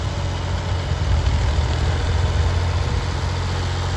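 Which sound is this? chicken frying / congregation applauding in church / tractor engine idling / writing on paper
tractor engine idling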